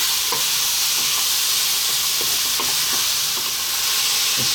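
Tomatoes cook over high heat in a pan while being stirred almost constantly, giving a loud, dense hissing sizzle with repeated light scraping clicks of the utensil throughout.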